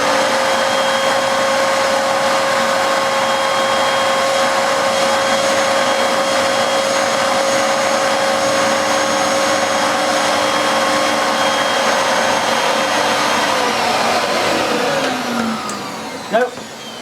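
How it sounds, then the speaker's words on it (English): A vintage Hoover Vortex bagless upright vacuum cleaner runs with a loud, steady motor whine and airy roar that holds for many seconds, then winds down near the end with a brief clunk. "I'm going to turn the machine on"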